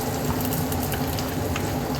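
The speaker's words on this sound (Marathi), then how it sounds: "फोडणी अशी छान झाली आहे त्यात आपण आता कांदे टाकून ठेवू" Onions dropped into a hot tempering of cumin, garlic and mustard seeds, sizzling and frying steadily and loudly up close.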